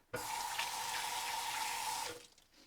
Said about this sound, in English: Hold on, I got to wash my hands.